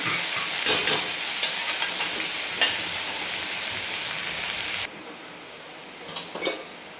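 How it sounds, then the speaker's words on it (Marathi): Frying amaranth greens hiss and sizzle in oil as chili powder and salt go in, with scraping stirs up close; the sizzle drops lower partway through, followed by a few more stirring scrapes. "आता याच्यामध्ये आपण तिखट मीठ टाकून घेऊ।"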